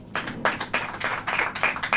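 Church congregation clapping hands during a sermon, a run of about seven claps in a steady, even rhythm, close and fairly loud with no talking.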